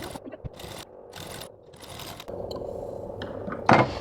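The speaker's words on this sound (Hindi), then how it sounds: "अब क्या करेंगे, अस्तर को बाहर की तरफ पलट देंगे और फिर हम लोग नीचे एक सिलाई लगा देंगे अस्तर की तरफ" A sewing machine runs in short bursts while stitching a blouse lining, quick rhythmic stitching with pauses between runs, close and moderately loud.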